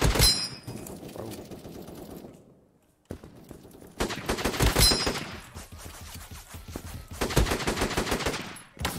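Rapid gunfire bursts from the browser shooter Krunker.io, loud and close, with a brief lull around the third second before dense shooting resumes in clustered volleys.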